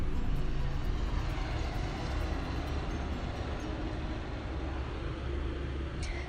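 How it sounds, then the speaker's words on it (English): A helicopter passes overhead, a loud, steady engine roar and dense low rumble that fills the whole stretch without pause. "there's another helicopter. I'm sorry if you can hear that"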